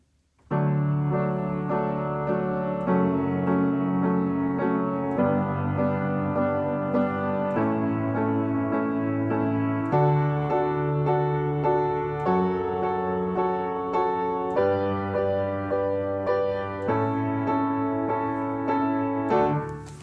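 A bass plays a simple, steady chord progression, sustained low notes changing every couple of seconds in an even, repeating pattern.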